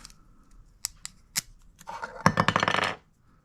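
Sharp plastic clicks and a brief crackling snap as a protective plastic piece is broken off an HP Deskjet 4255e ink cartridge, a few isolated ticks followed by a dense burst of cracking, close and fairly loud, with no talk.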